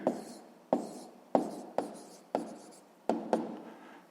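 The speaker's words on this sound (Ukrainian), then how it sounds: "Записуємо 500 гривень." A pen writes an answer onto paper for a sixth-grade math exercise, sounding as a series of about seven short, crisp scratching strokes, each starting sharply and fading, close and quiet with no voices.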